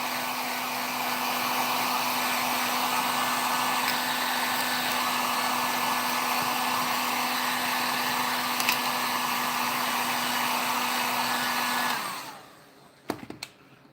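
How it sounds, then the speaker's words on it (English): Heat gun blowing on sculpting clay, a close, loud, steady whirring hiss with a constant hum that runs for about twelve seconds, then cuts off abruptly, leaving a few faint clicks and handling sounds. "I'm using the heat gun to warm it up."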